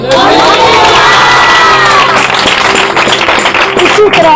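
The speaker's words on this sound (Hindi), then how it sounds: "जिस तरह अभी आप खुदा के कलाम पर ताली बजा रहे हो" A church congregation claps and cheers loudly and continuously, the crowd noise dense and close, with shouts and raised voices mixed into the roar.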